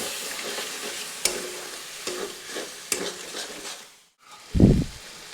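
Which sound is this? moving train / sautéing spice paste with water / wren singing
sautéing spice paste with water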